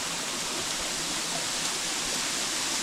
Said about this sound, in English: This waterfall was breathtaking